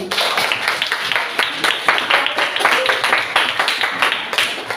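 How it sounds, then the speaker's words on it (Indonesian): A classroom of students applauds a classmate named Alex during an art lesson, a loud, close round of clapping with distinct individual hand strikes in a quick, uneven rhythm. "beri tepuk tangan untuk Alex"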